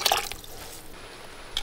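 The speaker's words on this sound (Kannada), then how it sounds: "ಹೋಳು ಬೇಯುವಷ್ಟು ನೀರು ಹಾಕಬೇಕು" Water poured into a cooking pot for a Solamiri ivy gourd dish, a steady close splashing fill with a few brighter drips at the start and end.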